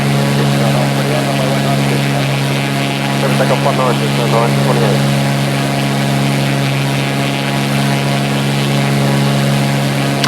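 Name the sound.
aircraft engine flying and landing in X-Plane 11 video game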